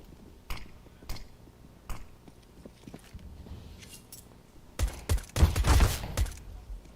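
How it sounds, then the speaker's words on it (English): Gunshots in a professional Counter-Strike match: a few sparse, distant single shots tick out at intervals, then a closer, louder flurry of rapid fire erupts near the end. "Early shots coming out up mid"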